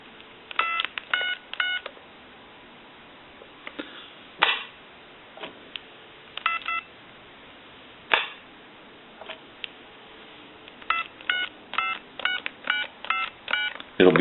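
A number dialed on a Radio Shack clear Trimline telephone: clusters of short touch-tone beeps with clicks between them, heard over a narrow, phone-line-like background.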